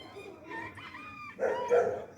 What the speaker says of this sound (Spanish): Inmediatamente cantó el gallo.